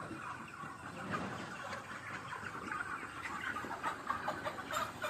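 Broiler chickens on a poultry farm cluck and murmur continuously as a dense flock, a steady moderate-level chatter with no one speaking.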